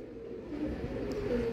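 Pigeon from Pakistan's Punjab border, kept as a breeding bird, gives low soft cooing near the microphone, steady and continuous with a faint background hum.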